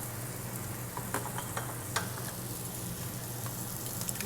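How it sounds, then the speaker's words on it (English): Onions frying in a very hot pan, a soft continuous sizzle with scattered pops and crackles, close but quiet, with no one speaking. "The pan is getting very hot, and we're waiting for our onions to get translucent"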